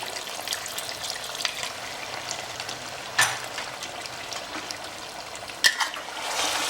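Mutton korma with a little added water sizzles and bubbles softly in a pan, a steady low crackle broken by two sharper spits.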